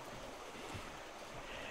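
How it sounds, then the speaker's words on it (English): Water flows at a quiet mountain retreat in Roaring Gap, North Carolina, a faint, steady rushing wash with no voices. "I'm just loving the fact that I hear nothing but this water."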